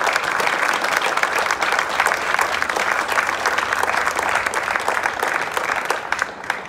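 A legislative session crowd breaks into steady, hearty applause, dense clapping holding at an even level for several seconds without talk.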